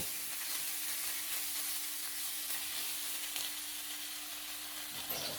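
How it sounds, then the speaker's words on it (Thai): Pork belly is stir-fried in a pan with a pounded garlic paste, producing a continuous hissing sizzle, even and moderately faint, with a faint steady hum underneath and a light clatter near the end. "สามเกลือหอมได้ที่ก็นำหมูสามชั้นลงไปผัดด้วยครับ"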